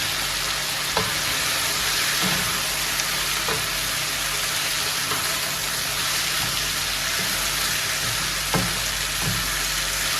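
Fried cauliflower stirred into a sizzling Chinese-style sauce in a pan: constant hissing frying with scattered spoon scrapes and clinks against the pan, close and without talk.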